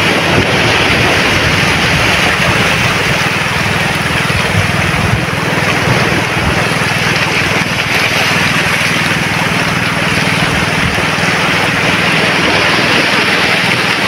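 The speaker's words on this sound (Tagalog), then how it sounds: "Yung hampas ng alon lang" Loud, continuous roar of ocean waves crashing and wind buffeting the microphone, with a low boat engine rumble mixed in and no clear breaks.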